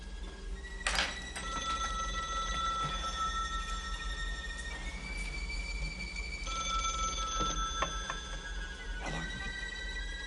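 A telephone bell rings in short bursts indoors, with bright, close repeated tones over a steady low hum.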